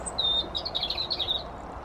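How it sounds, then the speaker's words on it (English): A sparrow sings a quick, high twittering phrase, chirps running together for under two seconds against a faint outdoor garden background. "Can you hear that bird singing?"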